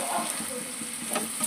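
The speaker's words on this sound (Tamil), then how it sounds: "வெங்காயம் வந்து நல்லா வதங்கணும் பொன்னிறமாக." Onions sauté in oil until golden for chicken biryani, sizzling steadily while a spoon stirs and scrapes through them in quick, close strokes.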